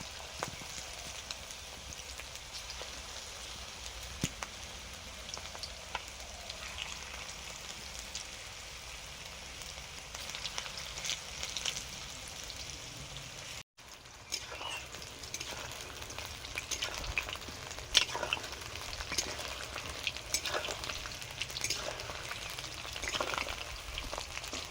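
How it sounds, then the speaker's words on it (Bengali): Fish frying in a pan of hot oil for chilli fish, a steady broad sizzle with crackling pops running throughout, briefly cut off midway then resuming slightly louder and busier. "প্রথমবারে মাছগুলো ভাজা হয়ে গেছে, তুলে নিলাম।"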